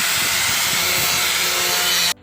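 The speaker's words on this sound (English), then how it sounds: "using an angle grinder" An angle grinder shapes wooden boat steps during a boat restoration, giving a loud, close, continuous abrasive rasp that holds steady for about two seconds and then cuts off abruptly.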